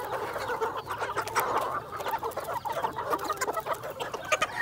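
Chickens, including a rooster and a pure white hen, cluck and chatter continuously as they are fed, a busy close flock with overlapping calls and no talking.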